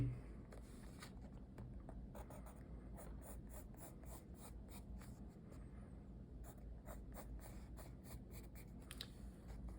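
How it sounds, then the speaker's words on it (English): A pen scratches across paper while a diagram of an angle on a bow is drawn, soft quick strokes and taps repeating over a steady low hum, close and faint, with no talk. "So I'm just going to draw the same thing again, but a little bigger so we have more room to see."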